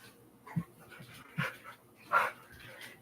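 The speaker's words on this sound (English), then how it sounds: "That was your dog that screamed." A dog yelps and whimpers indoors at home, several short sharp cries spaced across the moment over quiet room noise, fairly close, with no talk.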